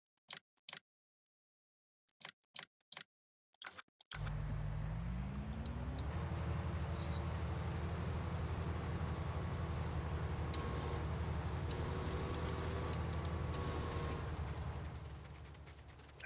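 A truck engine in Farming Simulator 19 starts up after a few sharp clicks, then settles into a steady, loud, low rumbling idle that swells slightly and holds before fading at the end.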